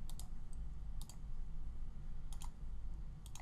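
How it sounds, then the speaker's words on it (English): Computer mouse clicks while working in EmbroideryStudio e4.2 embroidery software, quick double and triple clicks in small clusters, close and faint over a steady low room hum. "right clicking here for a curve"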